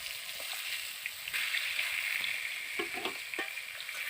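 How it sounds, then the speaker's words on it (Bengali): Pointed gourd (potol) fries in hot oil with turmeric, giving a steady close sizzle with a few stirring scrapes and bubbling bursts throughout, and no voices. "প্রথমে আমি পটলগুলোকে ভেজে নিচ্ছি"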